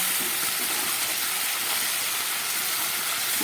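Rita fish heads frying in oil in a pan, seasoned with spice powder and garam masala, give a steady, close, even sizzle and hiss with no pauses and no voices.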